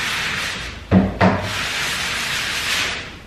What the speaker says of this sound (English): I just bought a sand sponge. It's this one. I was told to just lightly sand it,